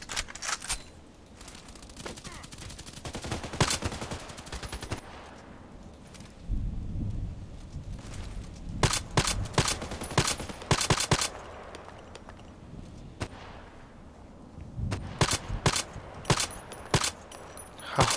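Bursts of automatic gunfire and single shots aimed at a player in a shooter video game, rapid cracking volleys recurring in clusters across the stretch with quieter gaps between.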